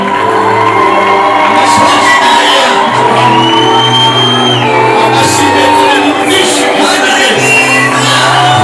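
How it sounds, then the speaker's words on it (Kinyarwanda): Applause and cheering from a church congregation at the close of a pastor's ceremony, a loud, dense and steady wash of clapping with whoops and shouts on top, running the whole time. "Amashyi"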